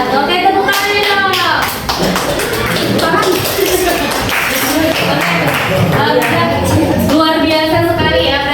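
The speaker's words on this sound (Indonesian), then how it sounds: "tepuk tangan dong" Elementary school pupils in a coding and artificial intelligence class clap their hands after a presentation, a steady patter of claps mixed with children's chatter and talk throughout.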